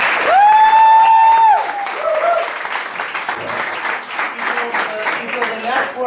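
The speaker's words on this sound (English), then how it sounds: "Let's round of applause." An audience at an international night gathering breaks into a round of applause, a dense wash of clapping that holds through the clip, with a brief whistle-like tone near the start and crowd murmur underneath.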